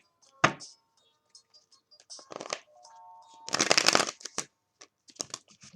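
Tarot cards shuffled close by in quick papery bursts, with a sharp slap near the start and a longer riffle midway, under faint background tones and occasional short pauses.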